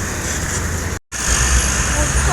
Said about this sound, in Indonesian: Unit yang ke-15 bus Sumbar dari arah Jabodetabek.